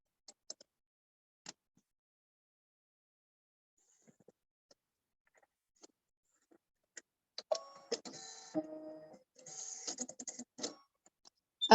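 An embroidery machine stitches the drawstring openings on a butterfly tool pouch. Scattered faint clicks give way to a few seconds of busy, close mechanical whirring and rattling as the needle runs, with no talking.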